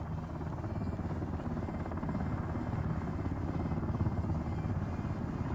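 Helicopter in the Ring of Elysium video game, a dense, steady rotor roar that stays loud and close for the whole stretch, with no pauses or other sounds breaking through.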